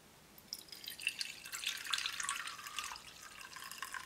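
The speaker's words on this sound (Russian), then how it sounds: "Посмотрим, удобно ли наливать." Water pours from a wide-necked glass carafe in a soft, close trickle that builds into a brighter splashing stream and then tapers off, with no talking.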